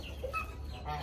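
Chickens and a rooster in a coop give a few soft, brief clucks over a low background hum, fairly close and without talk.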